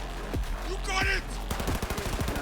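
Gunfire in Cyberpunk 2077, several loud, sharp shots followed by a rapid automatic burst of evenly spaced rounds, close and punchy over game background noise.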